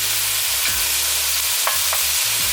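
Shrimp stir-fry close up with vegetables, garlic and soy sauce: a loud, continuous sizzle in the pan, with stirring scrapes and clacks throughout.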